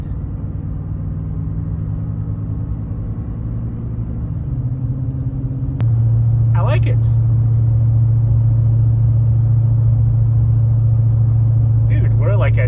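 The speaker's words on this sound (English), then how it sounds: "It's like a mellow, throaty, deep, a mellow, deep sound." Pickup truck with an upgraded exhaust driving along, its deep, mellow engine drone steady and close throughout, rising slightly partway as a person talks over it.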